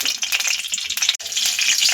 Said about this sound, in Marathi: तेल व्यवस्थित गरम झालं की त्यामध्ये आपण अर्धा चमचा जिरे टाकणार आहे